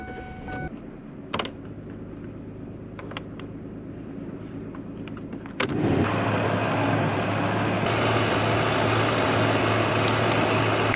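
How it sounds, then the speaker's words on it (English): A car engine idles quietly with faint clicks, then the air conditioning fan jumps to maximum with a sudden steady broadband whoosh over the low engine hum during a DIY AC recharge. "Next, you want to start the car, you want to turn your fan to max."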